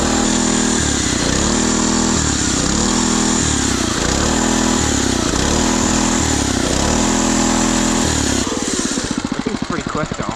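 Small budget mini bike engine held at full throttle, a loud, steady, buzzing close-up drone with a pulsing beat, dropping away near the end, with no one speaking.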